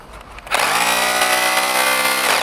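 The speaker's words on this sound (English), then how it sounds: "And that's our chipping function." A Bosch 36V Bulldog cordless rotary hammer set to chipping mode starts abruptly and keeps running with a loud, steady, whining mechanical buzz close to the listener.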